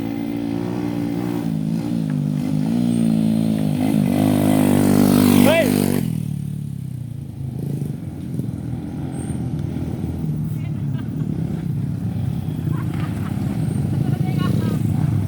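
Motorcycle riding up a trail toward a waterfall, its engine growing louder and revving as it approaches, then cutting off abruptly, followed by quieter outdoor ambience with people talking.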